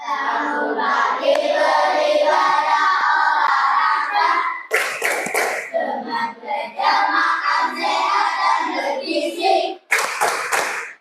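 Children clap hands in a rhythmic chant about seven healthy habits of Indonesian kids, voices chanting together over patterned claps, with sharp loud clap bursts punctuating the verses near and close.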